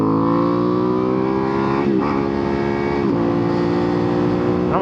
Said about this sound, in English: Got the 2025 Ducati Panigale V2S.